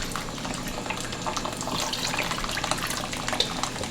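Water poured from a cup into a bowl for a soy, sake and mirin egg marinade, a steady close splashing trickle running alone for a few seconds.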